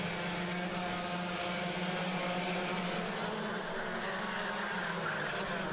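Kart engines buzz steadily past on the Rye House circuit during a Club100 lightweight sprint A final, a continuous loud drone with a droning mid-pitch hum and no clear pass-by swell.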